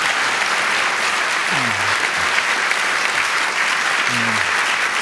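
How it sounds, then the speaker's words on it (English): A literary festival audience breaks into steady, full applause that fills the room without pause, with a faint voice or two low beneath the clapping. "a big round of applause for John."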